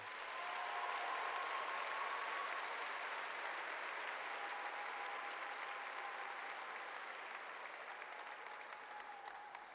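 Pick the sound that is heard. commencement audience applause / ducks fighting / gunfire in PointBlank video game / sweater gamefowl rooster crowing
commencement audience applause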